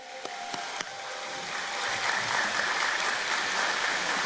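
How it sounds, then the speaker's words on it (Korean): An audience at a Korean church prayer service commemorating March 1st Independence Movement Day bursts into steady applause right after patriotic cheers, a broad wash of clapping that swells and holds, with a few sharp claps at the start. "다 같이 박수하십시다."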